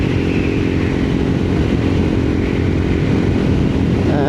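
An X-PRO Roadster 250 motorcycle cruising at about 65 mph and 6,000 rpm, its engine droning loud and steady with wind roar, heard close from the rider's position with no talk.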